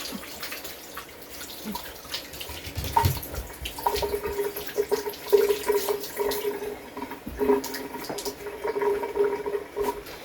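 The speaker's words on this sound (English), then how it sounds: "I've got to rinse my hands." Running water from a faucet as hands are rinsed, a steady wash with faint splashes and drips, in a home kitchen while a pot roast is being prepared on a wood stove.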